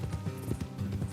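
Horse hooves clip-clopping at a steady walking rhythm in the video game Red Dead Redemption 2, close and moderately loud, with faint game ambience.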